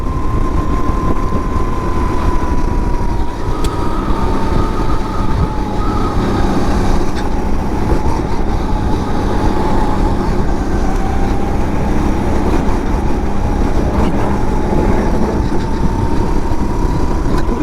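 Underpowered heavy-class racing kart engines drone steadily on track at a NOLA Motorsports karting league final, a loud continuous buzzing whine with pitch wavering slightly through corners, no voices heard.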